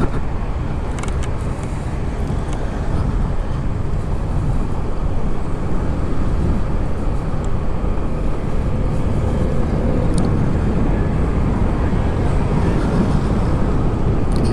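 Uwinfly T3 electric motorbike rolling steadily across the Cokromenggalan suspension bridge in Ponorogo, with a loosely rattling fender and continuous loud wind and road rumble throughout, no talking.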